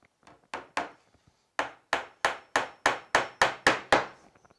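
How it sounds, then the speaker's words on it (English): Two-inch nails hammered into a wooden WBC beehive floor, about ten sharp ringing blows at a steady rhythm after a few lighter taps, close and loud with no talking. "Next job is 2 inch nails in the front on both sides, about 10 mil up from the front."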